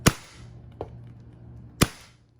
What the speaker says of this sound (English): Using an electric staple gun. It's working real well.